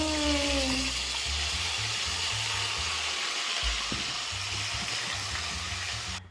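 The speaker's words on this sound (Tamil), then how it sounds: "கொஞ்சமாக தண்ணி ஊற்றிக்கலாம்" Water poured in a small amount into simmering mutton chops pepper gravy with ground masala, a broad steady hiss and gush running continuously and close, with low hum beneath and faint voices.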